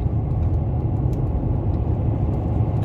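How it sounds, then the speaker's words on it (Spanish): Inside an intercity bus speeding along a highway from Torreón toward La Flor near Cañón de Jimulco, a steady, heavy engine and road rumble drones continuously without pause or talk. "Esos autobuses corren muy fuerte, ¿eh?"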